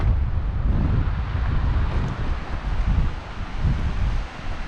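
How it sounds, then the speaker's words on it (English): Strong gusty wind roars and buffets the microphone in low rumbling bursts, continuous and close. "I told you it's windy."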